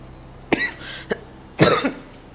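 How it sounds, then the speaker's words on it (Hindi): Three coughs, close and loud: two short sharp ones, then a longer, harsher cough after a brief pause. "ये अचानक तुम्हें खांसी क्यों हो रही?"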